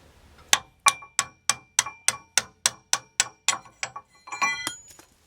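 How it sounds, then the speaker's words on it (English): An old, worn ball peen hammer taps metal on an ASV PT100 undercarriage part, about a dozen evenly spaced ringing strikes followed by a few quicker, duller knocks, close and clear with no talking. "I've got my little hammer here. It's just what's left of an old ball peen"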